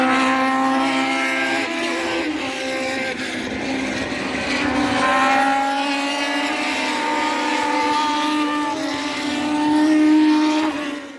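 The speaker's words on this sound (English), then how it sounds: "70s Formula 1 races have started to run, so maybe let's see if we can get a quick glimpse of that" 1970s Formula 1 race cars at the Nürburgring Oldtimer Grand Prix scream past in a continuous high-pitched engine wail, with pitch sweeping up and down through gear changes as several cars pass nearby, with no talk.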